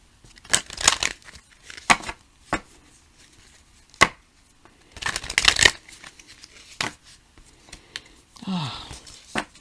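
Oracle cards are shuffled by hand in a series of quick riffling and slapping bursts, separated by short pauses and ending in a brief rustle, close and fairly clear.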